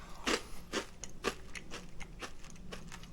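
Loud crunchy bites and chewing of crispy fried carp, several crisp crackling bursts in quick succession close to the mic.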